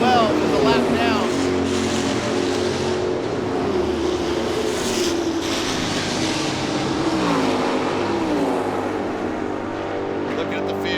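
Race cars in the Can-Am Challenge at Long Beach roar into turn one, a steady loud engine drone with rising and falling pitch as the field passes, with a commentator talking over it throughout.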